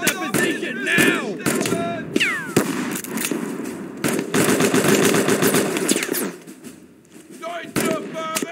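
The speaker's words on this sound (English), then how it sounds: "Everyone fire at that position now!" Gunfire in the video game Mud and Blood: rapid machine-gun bursts and scattered rifle shots crackle at an enemy position, with whistling shells, brief shouted voices and a short lull before the firing resumes.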